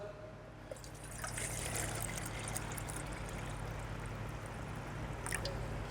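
Water pours steadily into the condenser of a gin still, a soft continuous trickle and splash that swells after a moment and runs on evenly at close range.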